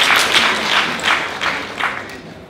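An audience claps together in a close room, in a brief burst of steady applause that swells and fades in soft waves, with no voices over it.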